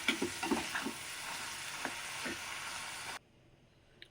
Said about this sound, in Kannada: ಈಗ ಚೆನ್ನಾಗಿ ಮಿಕ್ಸ್ ಮಾಡಬೇಕು, ಎಲ್ಲ ಹೊಂದ್ಕೊಂಡು ಹಂಗೆ ನಿಧಾನಕ್ಕೆ ಮಿಕ್ಸ್ ಮಾಡ್ಕೊಳ್ಳಿ